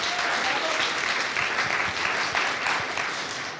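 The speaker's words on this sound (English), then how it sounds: "Give them a round of applause as well." A crowd claps steadily and loudly throughout, a dense, even wash of applause with no voices standing out.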